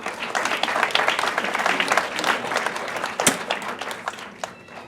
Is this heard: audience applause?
yes